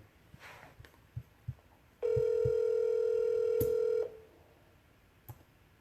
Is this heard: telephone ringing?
yes